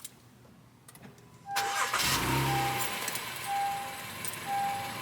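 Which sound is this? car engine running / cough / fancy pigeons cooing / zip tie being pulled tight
car engine running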